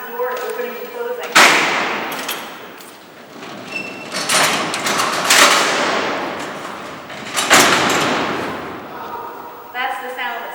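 Heavy prison cell doors at Alcatraz open and close in several loud metallic slams and sliding rumbles that ring out in a reverberant cellblock, with voices talking at the start and end.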